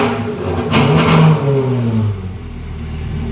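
A Ferrari 360 fitted with a Gruppe M exhaust, still warming up, revs once to about 3,000 RPM with a rising then falling engine note, close and loud, before settling back to a lower idle.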